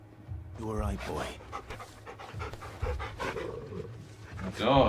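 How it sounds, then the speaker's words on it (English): A dog pants in the Final Fantasy 16 video game, quick breathy bursts mixed with game voices and a player talking over it. "It's my dog."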